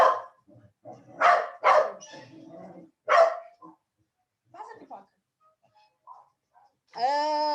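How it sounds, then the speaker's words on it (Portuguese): A fierce dog barks several times close by, loud sharp bursts mixed in with a man's speech, followed by a drawn-out whine or howl near the end. "vou dar uma parada aqui por causa do cão feroz"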